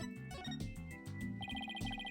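A phone rings in the video game Apollo Justice: Ace Attorney, a quiet electronic ringtone of repeated tonal beeps in a quick rhythm over game music.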